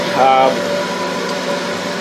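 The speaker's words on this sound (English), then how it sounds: "I'll turn off the air dryer. Cut back on the noise." An air dryer runs in a workshop beside a homemade gas-bottle pot belly wood burner stove, a steady mechanical hum and whir close to the microphone, with a brief tonal whine near the start. Someone speaks over it.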